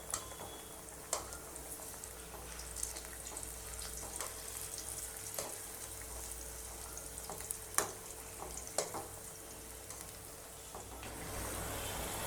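Masal vada made from soaked lentils fries in oil over a medium flame, a soft steady sizzle with scattered small crackles and pops, fairly faint and with no voices.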